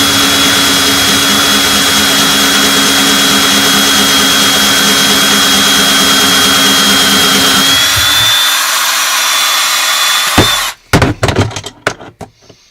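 A power case trimmer whines loudly and steadily as it trims a brass cartridge case cut down from .223 or 5.56 to .300 Blackout, then winds down and stops, followed by a few sharp clicks and handling knocks.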